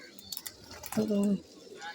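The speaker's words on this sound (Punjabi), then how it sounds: "ਲਓ ਜਨਾਬ ਆ ਕਬੂਤਰੀ ਫੇਰ ਉੱਡ ਗਈ ਆ" A female breeder pigeon gives a low, throaty coo close by, briefly, amid faint background sounds.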